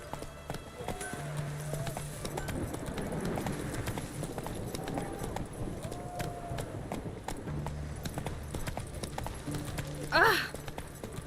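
Roach, the horse in The Witcher game, gallops in a steady rhythmic clip-clop of hooves that runs throughout, with a short voice exclamation near the end.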